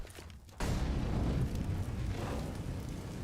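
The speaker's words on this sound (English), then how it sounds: "Yeah, this volley of nades, very standard stuff." A volley of grenades goes off in CS:GO on Dust 2, a sudden heavy boom followed by a sustained rumbling, crackling roar that slowly settles, loud and close.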